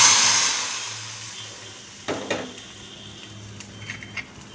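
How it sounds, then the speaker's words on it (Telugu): Tempering hits hot oil for tomato rasam, a loud hissing burst of sizzle that fades over a couple of seconds, followed by a few light clinks and scrapes of a spoon in the pan, close, no talking. "తాలింపు వేసేస్తాను."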